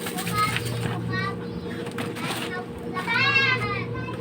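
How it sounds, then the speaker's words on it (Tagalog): Children shouting and playing outdoors, high excited voices rising in bursts over a steady background hum. "Yan, naririnig yung mga bata."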